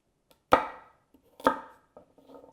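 Butternut squash and other vegetables being chopped into chunks on a cutting board, two firm knife thuds followed by softer, scattered taps, close and alone.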